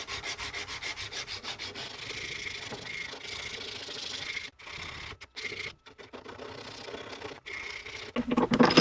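Sanding and tapering a small wooden spinner bait body, a close, continuous rhythmic rasping with quick strokes, broken by a few brief gaps and ending with a louder scrape.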